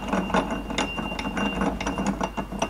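Seized scooter engine, a Booster, with a damaged connecting rod being turned by hand: a steady run of dense mechanical clicking and grinding knocks at close range, with no voices.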